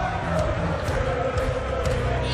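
A darts crowd roars and cheers steadily at the World Darts Championship 2014 final, celebrating Michael van Gerwen's title win over Peter Wright. The noise is dense and sustained, with a commentator talking over it.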